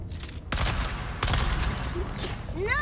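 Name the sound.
grenade explosions in a video game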